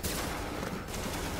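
Sustained automatic gunfire from The Division video game rattles on densely and loudly with no pauses, alone without any voices.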